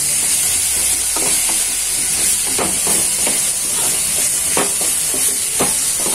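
Tomatoes hitting a hot pan of sautéed onions for kothu parotta, giving a steady, close sizzle and hiss with occasional stirring scrapes and taps throughout.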